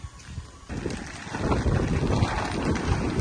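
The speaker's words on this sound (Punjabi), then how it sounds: "ਹਵਾ ਚੱਲ ਰਹੀ ਹੈ ਬਹੁਤ ਜ਼ਿਆਦਾ" Strong wind buffets the microphone in a continuous low roar that swells louder after the first half second and stays heavy throughout, on a dairy farm in Punjab while covering corn silage.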